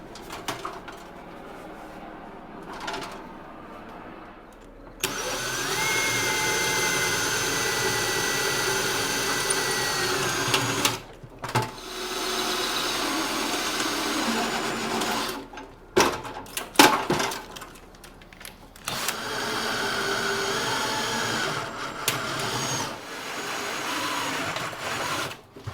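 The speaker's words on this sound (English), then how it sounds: "I need to drill out these rivets." Power drill boring out rivets on an early-1930s Coleman 2E camp stove during restoration: several sustained, loud whirring bursts of varying length separated by pauses, close up and with no talk.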